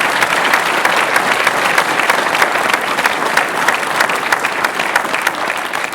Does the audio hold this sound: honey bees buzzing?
no